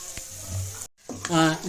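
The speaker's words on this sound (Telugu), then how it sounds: "ఎల్లుల్లిపాయలు ఇలా వేగిన తర్వాత మనం ఇడ్లీ వేసుకుందాం." Garlic frying in oil in a pan for mixed dum idli, a steady close sizzle broken by a brief silent gap, then louder sizzling with stirring scrapes; no talking.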